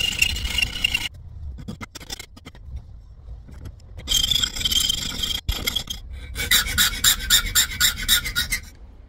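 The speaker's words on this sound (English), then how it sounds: "I have spent quite a while filing and making this thing smooth so it's just right." A metal tripod part is filed smooth by hand, rasping strokes in bursts separated by pauses, the last stretch a quick rhythmic series of close scrapes.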